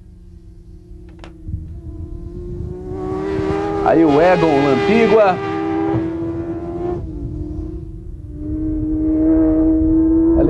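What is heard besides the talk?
racing motorcycle engine during a motorcycle race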